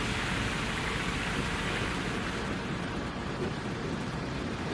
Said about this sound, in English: It's raining again, so that means there's water in the creek